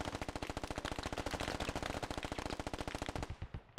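Rapid automatic gunfire in a video game, a fast continuous burst of evenly spaced shots that runs for several seconds before trailing off, loud and close with no voices over it.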